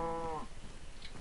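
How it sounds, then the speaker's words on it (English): A cow moos once in the Minecraft video game, a short, fairly close low call that fades after about half a second, followed by quiet game ambience. "Look at the cows."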